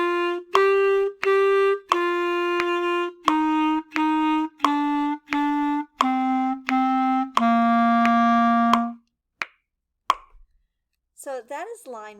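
A clarinet plays a lesson line of about a dozen sustained notes, each started cleanly with a tongued T articulation and separated by short breaks. A brief voice follows after the playing stops.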